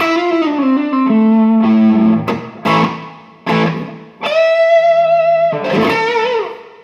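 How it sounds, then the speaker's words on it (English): An electric guitar played through Bob Burt reverb and overdrive pedals, the reverb sitting in the amp's effects loop: gritty, distorted chords and single held notes ring out with a natural reverb tail, loud and alone. "Here's that with some overdrive, courtesy of the Bob Burt Overdrive."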